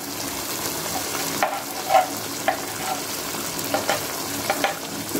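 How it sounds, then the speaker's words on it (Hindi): Spices, yogurt and chicken feet sizzle and fry in a pan, a steady crackling hiss broken by several sharp stirring clinks and scrapes, close and fairly loud with no voices. "अब इन तमाम मसालों की अच्छी तरह भुनाई कर लें।"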